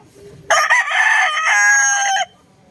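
A two-year-old fighting rooster crows once, loud and close, a single sustained call lasting under two seconds against a quiet background.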